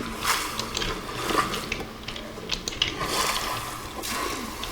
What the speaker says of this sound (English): So if there is water in your ship, then you gotta, of course, get it out with your water buckets.